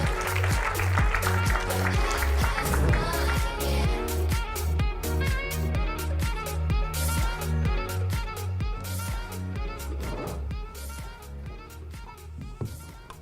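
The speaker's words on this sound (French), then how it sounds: "qu'on peut applaudir" Audience applause greeting a media company president as she walks on stage, heard as a fading wash of clapping under loud, pulsing walk-on music with a steady beat that dominates throughout.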